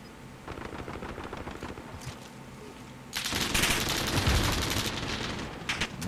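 Gunfire in a multiplayer match of Call of Duty Modern Warfare: bursts of automatic shots at the start, then a louder, dense barrage of rapid fire from about the halfway point, with no talk heard.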